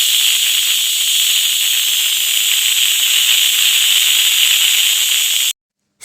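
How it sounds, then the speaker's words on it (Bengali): A pressure cooker holding jackfruit curry vents steam in one loud, continuous close hiss that stops abruptly near the end. "এই পর্যায়ে জল দিয়ে প্রেসার কুকারের মধ্যে সবটা দিয়ে দিয়েছি। এটা এরপরে 7টা মতো সিটি পড়তে দেব।"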